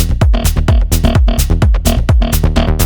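An Ableton-produced kick drum with a layered top kick pounds in a steady, loud four-on-the-floor pattern, its clicky attack cutting sharply above the deep low thump.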